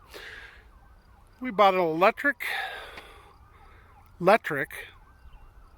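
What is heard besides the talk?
ambulance siren passing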